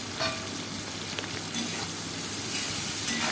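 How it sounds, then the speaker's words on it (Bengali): Shrimp fry in hot oil with salt, a continuous crackling sizzle with occasional sharper pops and faint stirring scrapes, close and steady with no talking. "লবণটা দিয়ে আমি বেশ কিছুক্ষণ চিংড়ি মাছটাকে ভেজে নেব, যাতে মাছের ভেতরে লবণগুলো ঢোকে।"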